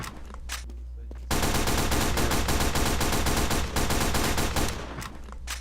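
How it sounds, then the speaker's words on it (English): Rapid automatic SMG fire from the video game Team Fortress 2, a dense continuous burst of shots lasting several seconds after a brief quieter lead-in, loud and close with a short dip in the middle. "The SMG was horribly nerfed and shoots really slow"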